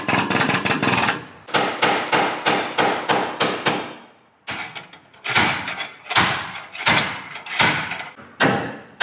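Hammer blows on a wrecked 2013 Ram 1500 Laramie pickup during a body rebuild: quick bursts of sharp metallic taps in rapid runs, a brief pause, then more evenly spaced heavy strikes, loud and close.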